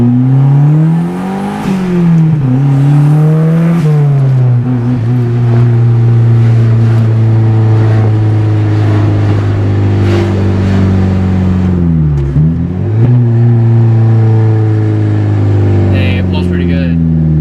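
A turbocharged Mazda Miata with a rebuilt Greddy turbo accelerates hard on a test pull, its engine note rising and falling through several loud revving climbs and gear changes, close to the microphone.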